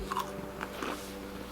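A bite into a crunchy Kroger cinnamon roll with icing, with a few close, soft crunching chews over about a second and a half.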